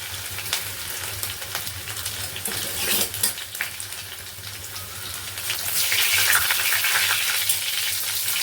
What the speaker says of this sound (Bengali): দেবো একটা তেজপাতা আর দেবো একটু পাঁচফোড়ন